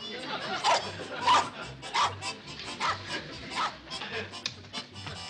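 A dog barks repeatedly in quick, steady bursts, with faint voices mixed in underneath.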